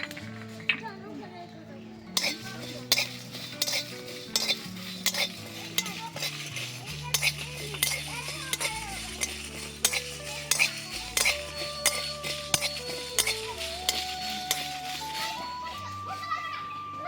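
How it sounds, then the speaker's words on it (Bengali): Red chillies with whole coriander and cumin seeds are dry-roasted in a pan, with a spatula scraping and clicking in frequent sharp taps while a voice talks over it and faint music plays. "এবার শুকনো খোলায় কিছু মশলা আমি ভেজে নেব।"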